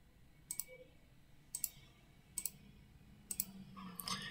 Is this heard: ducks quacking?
no